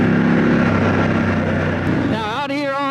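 A dual sport motorcycle on adventure tires churns through deep, soft sand, its engine droning loud and close before rising into wavering, climbing revs near the end.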